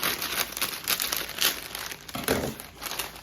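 A plastic bag holding spinach and arugula crinkles and rustles up close in a kitchen, with bursts of crackling handling noise that rise and fall as the bag is moved.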